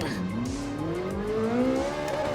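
A Ferrari 458 in Gran Turismo 7 at Brands Hatch brakes hard with tires squealing, while a steady engine tone climbs in pitch throughout. Some voice sits faintly beneath.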